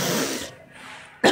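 A sick woman coughs hoarsely in a close, harsh burst, followed by a quiet pause and then a sharp second cough at the end.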